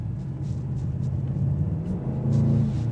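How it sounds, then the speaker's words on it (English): Inside a 2026 Mercedes-AMG GLS 63 at full throttle in comfort mode, a deep, steady engine rumble builds slowly. It swells in pitch and loudness near the end, with no voices. "That was full throttle, by the way."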